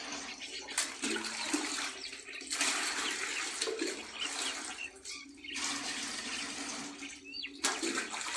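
Water pours and splashes steadily from a leaking pipe, a loud continuous rushing that swells and dips slightly over several seconds with no voices.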